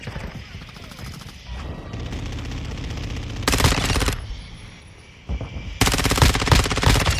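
Automatic gunfire from the ISO 9mm submachine gun in Call of Duty Modern Warfare II, loud bursts in two main stretches with game effects and voices between them.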